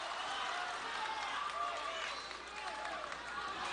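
Applause and cheering from the crowd at a boxing match between Milan Melindo and Carlos Tamara fill the arena and stay fairly distant and even, with an excited commentator talking over them.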